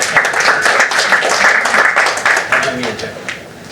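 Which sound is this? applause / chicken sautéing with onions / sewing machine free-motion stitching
applause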